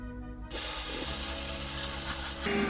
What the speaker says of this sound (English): then I will steam it and spray a little bit of our all-purpose cleaner on here